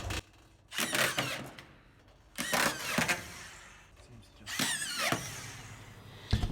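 A Makita DFS452 cordless screw gun with the trigger locked on whirs in three separate high-pitched bursts, each a couple of seconds long, with quieter gaps between them.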